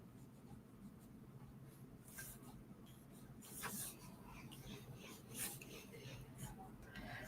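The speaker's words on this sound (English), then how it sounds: "I'm just going to make dotted lines here" A pencil sketching rough dotted lines on paper for a papercraft project, heard as faint, rapid scratchy taps and short strokes over a low steady hum, with no speech.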